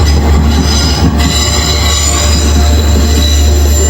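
Shrill, continuous screech of train wheels on rails close to houses, steady and deafening throughout with a low rolling rumble underneath and no voices.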